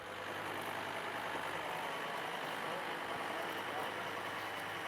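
Farm tractor idling steadily in a field before rolling cereal plots for silage, with a constant broadband engine drone and low rumble, moderately distant, no voices.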